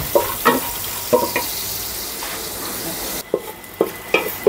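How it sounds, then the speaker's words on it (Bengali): Cashews and other nuts fry in ghee with a steady close sizzle, punctuated by rhythmic scraping spoon strokes against the pan every second or so, no voices. "এই কাজু বাদাম দিয়ে ভেজে নিচ্ছি, ঘি দিয়ে ভেজে নিচ্ছি।"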